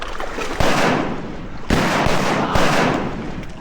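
Shotgun blasts ring out during a public-land duck hunt in Arkansas, three loud, sharp reports spaced about a second apart over steady outdoor background noise.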